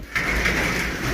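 A racing pigeon coos softly, with a sustained breathy dove call over light outdoor background noise and no talking.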